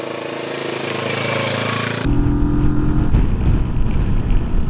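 A Rieju Xplora 707 motorcycle engine drones loudly as the bike is ridden, a steady close engine note with wind rush, turning rougher and more buffeted partway through.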